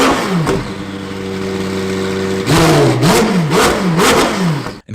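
A McLaren 720S engine with a titanium exhaust, heard close and loud: it settles into a steady idle, then gives a series of sharp revs that rise and fall in quick succession before cutting off.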